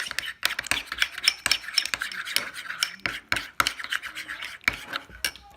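A spoon stirs a turmeric face mask mixture in a small bowl, giving close, busy scraping and clinking against the bowl in an irregular rhythm throughout, with no talk.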